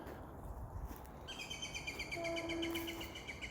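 A bird calls in a woodland park, faint chirps and a short tweeting phrase set against quiet outdoor background noise.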